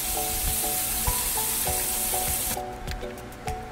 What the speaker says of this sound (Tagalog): So yan, gisa na natin yung ating sauce.